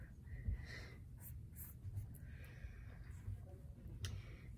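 Pencil sketching on paper while drawing an Aztec-style leopard, a soft continuous scratching of short strokes and small circles, close and quiet, with a few light breaths and no talking.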